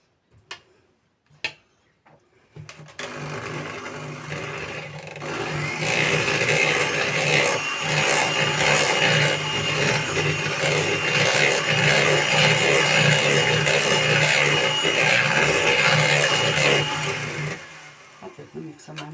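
An electric mixer whips cream for an apple, walnut and vanilla cream cake, giving a sustained buzzing whir for about fifteen seconds, preceded by a few light knocks and then cutting off.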